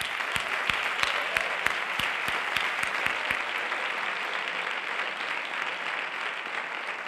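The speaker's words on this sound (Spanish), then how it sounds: "yo creo que le vamos a recibir con un grandísimo aplauso" A concert audience applauds a singer-songwriter, with a few sharp, distinct claps at the start that quickly merge into a steady wash of clapping, moderately loud and unbroken by talk.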